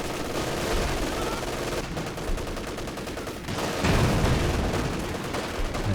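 Rifle and machine-gun fire in a Company of Heroes 2 match, with dense continuous volleys and distant bursts layered over battle noise, intensifying toward the end.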